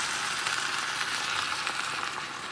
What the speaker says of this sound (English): Then we're going to add beef broth. You'll hear a nice sizzle from that.